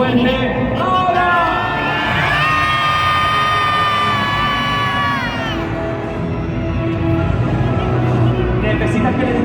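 Children in an indoor arena crowd at the Megasaurus monster truck show in Palau Sant Jordi, Barcelona, shout and cheer loudly together, rising into one sustained collective yell that fades after several seconds.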